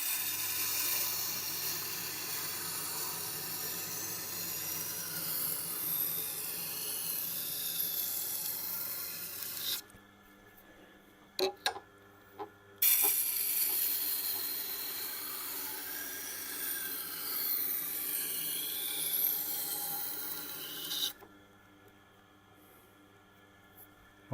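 A Tormek wheel grinds a Wusthof kitchen knife with a steady, hissing rasp in two long passes, separated by a short pause with a few sharp clicks, then falls silent.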